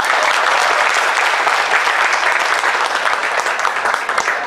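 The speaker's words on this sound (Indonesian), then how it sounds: "sekali lagi Bapak Ibu tepuk tangan yang meriah" Loud, dense applause from a seminar audience at a training kick-off event, continuous and sustained throughout with no talk over it.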